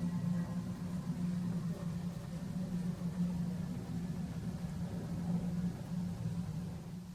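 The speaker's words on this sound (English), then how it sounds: "Accelerating on runway 34 left is Emirates Boeing 777-300ERF, a cargo flight" An Emirates Boeing 777-300ERF cargo jet accelerating down runway 34 left, heard as a steady low engine roar at a distance, continuous and even throughout.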